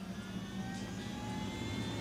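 Helicopter engine in the video game Ghost Recon Wildlands, a steady loud whine and low rotor drone running continuously throughout without any speech.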